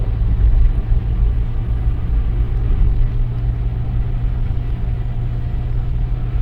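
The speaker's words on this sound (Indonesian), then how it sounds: "Untuk muatan berat, kendaraan berat ini pakai gigi rendah ya." Heavy trucks grind uphill in low gear on a hilly toll road near Semarang, a steady deep engine rumble that stays loud and close throughout with no pauses.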